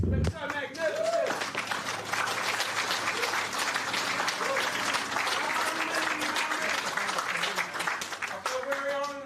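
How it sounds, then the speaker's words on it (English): Sustained round of applause from a funeral audience, many hands clapping loudly and steadily for several seconds, with a voice speaking over the start and end. "How about we start off with a round of applause for the brother?"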